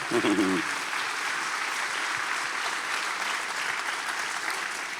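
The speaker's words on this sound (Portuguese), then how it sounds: "Um dia pode aplaudir, depois eu conto o resto." A church congregation bursts into loud, sustained applause during a sermon; a brief voice opens the moment before the clapping fills the room evenly to the end.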